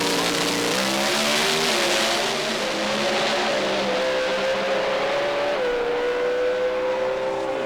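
Two drag racing cars do burnouts side by side at the start line, a loud, continuous roar of engines under strain mixed with hissing tire squeal, pitch wavering and climbing as the revs hold, with no talk.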